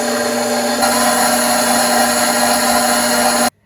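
A stand mixer kneads whole-wheat bread dough at a low to medium speed, giving a loud, steady electric motor whine. The whine shifts up slightly partway through and stops abruptly at the end.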